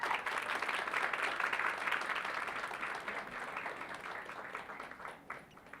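A conference audience gives dense, sustained applause to welcome a speaker, fairly distant and soft, thinning gradually toward the end.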